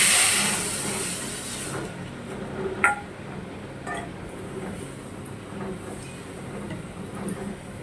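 Mung dal hits hot oil tempering in a vegetarian kitchen with a loud initial hiss that settles into steady faint sizzling, with a few clinks of utensils.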